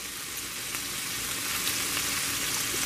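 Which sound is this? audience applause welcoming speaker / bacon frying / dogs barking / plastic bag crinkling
bacon frying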